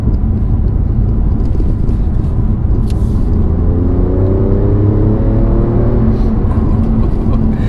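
An Alfa Romeo Giulia Quadrifoglio accelerates hard from inside the cabin, its loud engine note climbing in repeated rising sweeps, each broken by a quick upshift, over a constant road roar.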